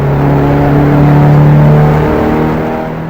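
Subaru Legacy wagon on a fast lap at High Plains Raceway, its engine droning loud and steady from inside the car with a sustained tonal whine that holds, then gradually eases off toward the end.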